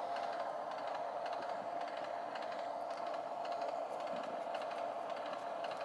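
An Acela Express high-speed train in Trainz Simulator 2 runs at full throttle, giving a faint, steady, continuous hum and rumble with no talk over it.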